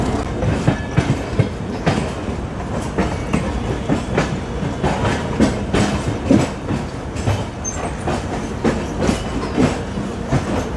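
A passenger train hauled by a locomotive rolls toward a rail yard, a loud, steady rumble with a rapid, irregular clickety-clack of wheels over rail joints throughout, heard alone.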